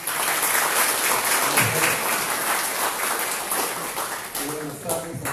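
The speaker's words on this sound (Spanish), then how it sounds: "le brindamos un fuerte voto de aplauso." An audience at a Superior Court of Justice ceremony in Leoncio Prado province applauds with steady, dense clapping that fades slightly, as a voice begins speaking near the end.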